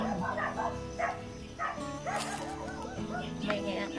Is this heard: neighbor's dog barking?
yes